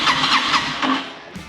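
A Honda VTX motorcycle engine, non-running and bought as broken, cranking over on its electric starter with a loud, steady churning whir that fades off at the end.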